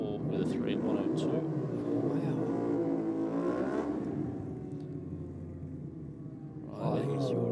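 Ducati Diavel motorcycle accelerating hard down a dragstrip, a loud sustained engine roar that rises in pitch, eases off, then surges again near the end, with commentators talking over it throughout.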